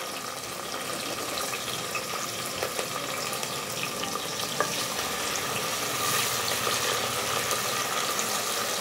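Finely chopped onions, three medium ones, fry in hot oil in a pan for vegetable pulao, giving a steady, close crackling sizzle throughout with occasional stirring scrapes.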